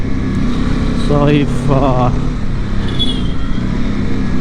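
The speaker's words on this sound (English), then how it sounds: "the engine is so much smoother, much more punchy" A Honda CB300R motorcycle engine runs steadily and loudly during a ride, with constant engine drone and road noise, and someone speaks briefly over it.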